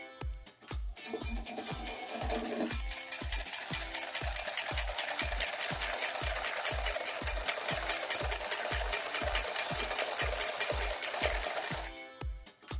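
An electric hand mixer whirs steadily as it beats egg yolks with sugar in a mixing bowl, making a continuous mechanical buzz with regular rhythmic ticking, close and fairly loud, running for most of the stretch before stopping.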